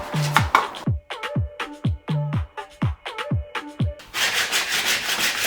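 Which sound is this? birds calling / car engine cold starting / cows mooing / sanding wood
sanding wood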